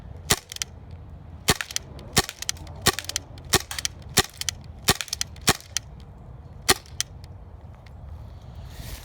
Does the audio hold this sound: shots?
yes